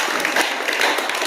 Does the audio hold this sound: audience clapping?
yes